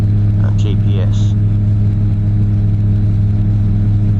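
A Slipstream Genesis light aircraft's engine drones loud and steady in flight, an unbroken humming roar filling the cabin, with a brief voice near the start.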